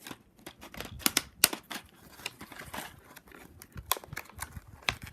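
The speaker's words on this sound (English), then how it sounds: "Let me just get my scissors and try." Scissors snip and slice through unboxing packaging for a Take Along Gordon toy train, with irregular close cuts and plastic crinkling and tearing in quick bursts, no talking.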